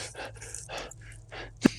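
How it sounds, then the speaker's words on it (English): A person pants in quick, breathy bursts, roughly four or five heavy exhalations in a steady rhythm, close and moderately loud, sounding like a voice performing the panting of a character during a tabletop role-playing session, ending with one sharper gasp. "I'm just panting now."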